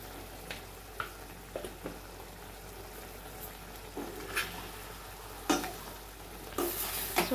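Curry simmering and sizzling in a pan while a spoon stirs it, with soft scraping strokes and occasional louder clanks over a steady bubbling hiss, close by and alone without talk.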